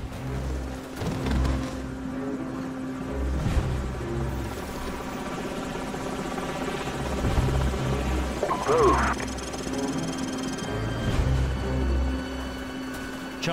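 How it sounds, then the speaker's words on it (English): Enemy helicopters in the game Call of Duty 4: Modern Warfare, a low rumbling rotor and engine drone under a battle scene, with voices speaking over it throughout. "Enemy helicopters."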